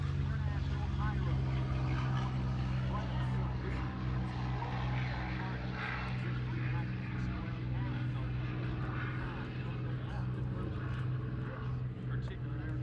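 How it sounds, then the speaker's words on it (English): A B-51 aircraft taking off at an air show in Columbus, Ohio, its steady engine drone rumbling continuously, with a public-address voice talking over it. "B-51 also taking off."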